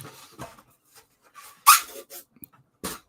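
A puppy whimpering and panting close by, a few soft whines and breaths with one sharper yelp-like squeal in the middle, quiet gaps between.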